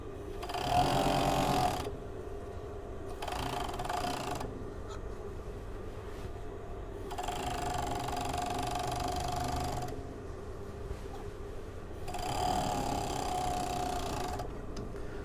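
An overlocker stitches the side seams of a pencil skirt in several bursts of steady whirring, stopping and restarting between runs, close and fairly quiet, with no voices.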